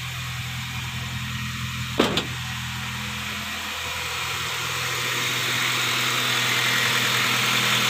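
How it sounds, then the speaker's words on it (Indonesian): A 2006 Honda Jazz V-TEC idles smoothly with a steady low hum and faint electrical whine, one brief clunk near the start, the engine drone slowly growing louder; no talk. "untuk suara mesinnya lumayan halus ya teman-teman"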